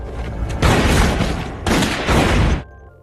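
A film gunfight plays as a loud, dense exchange of gunfire in two long sustained bursts split by a brief break, with booming shots and no talk.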